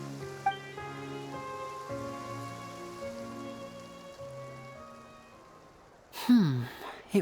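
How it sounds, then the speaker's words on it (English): Rain falling in the video game Genshin Impact, a steady soft patter mixed under sustained game music, with a brief louder tonal sweep near the end. "It rained for longer than I suspected."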